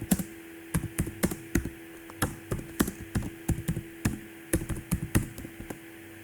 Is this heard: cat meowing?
no